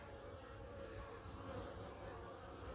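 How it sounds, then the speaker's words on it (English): Honeybees buzzing as a steady, dense hum at a hive entrance in winter, likely robbing bees crowding a neighbouring colony; the drone is continuous and even throughout, with no talking. "these bees are probably the robbing bees that are robbing the other hive"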